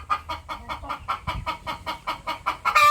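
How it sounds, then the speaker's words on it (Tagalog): A Brahma chicken clucks in a quick, regular series of about a dozen close, loud notes, with a sharper squawk at the very end. "Ito naman po ang Brahma chicken."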